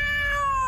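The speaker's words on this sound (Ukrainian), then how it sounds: "це просто маленький чорний котик" A small black cat, hungry, lets out a single loud, drawn-out meow close by, its pitch gliding slightly downward.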